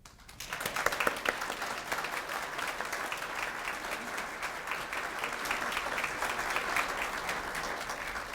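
Audience at a Daughters of the American Revolution chapter awards reception applauding the honorees, with clapping that swells in after half a second and carries on steadily and fairly full for several seconds.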